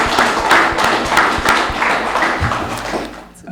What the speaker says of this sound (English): I would like to give a round of applause to the